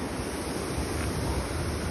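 Ozarde waterfall in Maharashtra roars as a constant dense wash of falling water, loud and unbroken throughout, with no voices over it.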